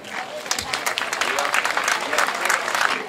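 An outdoor crowd at a summer-opening event in a town market square and riverside park claps in sustained, dense applause, loud and continuous, with voices mixed in.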